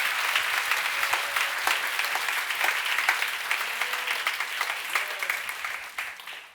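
A congregation claps at a church healing service, a full, sustained round of applause that swells and then tapers off toward the end, with faint voices mixed in.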